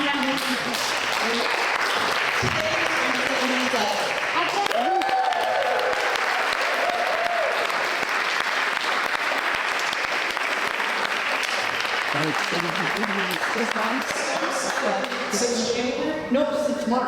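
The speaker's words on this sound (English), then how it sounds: "I think we need to get a round of applause" Sustained round of applause from attendees at a general meeting of a political group, steady and fairly loud throughout, with a few voices mixed in beneath the clapping.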